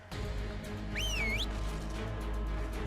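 A whistle command in Ark: Survival Ascended, a single short rising-and-falling whistled tone heard over a steady low game background hum, with no talking.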